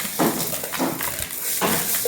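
Ginger pickle with salt and turmeric stirred in a plastic container: three soft, scraping, gritty strokes in a steady rhythm, close and moderately loud, with no talk.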